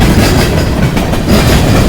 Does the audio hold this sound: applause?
no